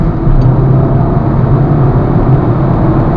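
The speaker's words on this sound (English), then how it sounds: "I will demonstrate to you now what sort of acceleration you can expect from a vehicle like this" A 2002 Ford Focus with a 2.0 engine accelerating hard, its engine drone loud, steady and close throughout, with no talk over it.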